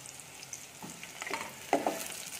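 Onions and whole garlic cloves fry in oil in a pan, a soft, low sizzle with light crackles and a couple of brief stirring scrapes near the end.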